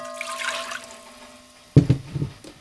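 Water is poured for a pickled watermelon rind brine, a short splashing pour arriving late after a quieter stretch, close and fairly loud with uneven bursts.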